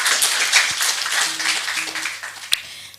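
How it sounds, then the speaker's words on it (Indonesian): An audience at a stadium general lecture for student entrepreneurs gives a speaker a round of hand clapping, moderate and fairly distant, with a sharp single clap near the end and faint voices underneath. "Sekali lagi kita tepuk tangan pada pemateri kita."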